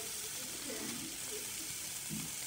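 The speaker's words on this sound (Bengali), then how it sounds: "ভালো করে নাড়াচাড়া করে নেওয়ার পরে ভালো করে কষিয়ে নিতে হবে।" Chicken sizzling as it is stirred and fried in a pan for a Bengali-style chicken curry: a steady, soft frying hiss with faint scraping stirs, heard close and quiet, with no voices.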